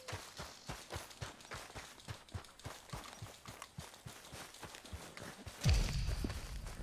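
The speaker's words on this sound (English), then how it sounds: "A gente anda bastante a cavalo, né?" Steady, rhythmic clip-clop of horse hooves during a ride in Red Dead Redemption 2, quiet and evenly paced, ending with a sudden louder thump near the close.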